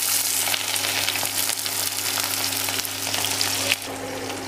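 Steady, dense sizzling of onions frying in hot mustard oil with garlic, a continuous crackling hiss close by, with a brief stir or shift near the end.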